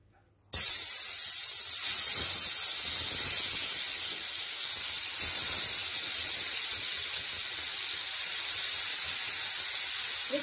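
A prawn curry masala mixture hits hot oil in a pan over medium flame and bursts into a loud, sudden sizzle that settles into a steady, bright hiss lasting several seconds with no talking.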